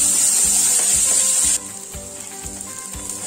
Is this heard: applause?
no